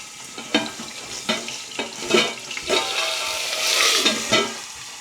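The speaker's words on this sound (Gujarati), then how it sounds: "બધું નાખી દઉં પછી બધું દેખાડું કેમ કે તેલ બહુ ઉડી જાય છે" Hot oil tempering spices with asafoetida, green chilies, curry leaves and tomatoes, crackling and spattering close by in loud irregular bursts over a continuous sizzle.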